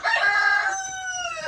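A meat-breed rooster crows loudly and close by, one drawn-out call that trails off.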